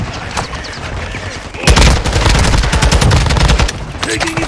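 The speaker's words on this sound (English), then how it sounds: "Taking effective fire!" Loud, sustained gunfire from a Call of Duty Warzone 2.0 match on the Vondel map erupts into a dense rattling barrage of rapid shots, with a voice talking underneath.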